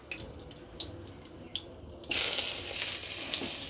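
Eggplant pieces dropped into hot oil for begun bharta, a few soft taps and clinks followed by a sudden loud, steady sizzle of frying up close.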